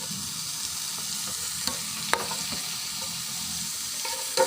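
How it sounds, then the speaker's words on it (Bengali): Onion, carrot and chopped capsicum stir-fried on high heat for beef chow mein hiss continuously and close up, with occasional light clicks of a spatula tossing the vegetables. "হাই হিটে এগুলোকে নেড়ে চেড়ে সিদ্ধ করে নেব"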